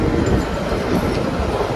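Shivalik Deluxe Express on the Kalka–Shimla line rolling through a station without stopping, a loud, steady rumble of wheels and carriages heard from on board.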